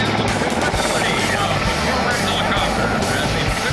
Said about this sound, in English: from vintage warbirds to a Canadian Forces CH-149 Cormorant helicopter